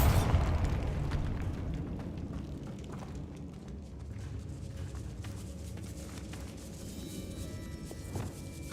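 A Bombarda spell explodes in a video game with a short, punchy blast up front, followed by a low, lingering rumble that fades into quiet ambience.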